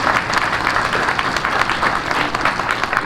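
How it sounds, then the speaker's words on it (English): Audience at a college football game veterans salute applauding steadily, a dense, even wash of clapping with no voices over it. "Let's give him and the great faculty and staff a great round of applause."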